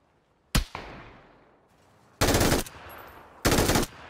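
Gunfire in PUBG, three loud bursts: a sharp single shot with a fading echo, then two longer automatic volleys about a second apart, close and dominant with no talk.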